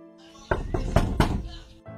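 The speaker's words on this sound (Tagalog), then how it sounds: "Biglang kumatok si Basilio." A character knocks on a door in a Grade 10 high school stage play of El Filibusterismo: four firm, evenly paced knocks over a faint room hum.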